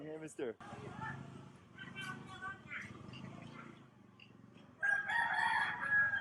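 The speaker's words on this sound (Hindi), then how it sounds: "आप एक मुर्गा सुन सकते हैं।" A rooster crows near a roadside in rural Indonesia, with several drawn-out calls at moderate distance mixed with ongoing talk and a burst of other clucking near the end.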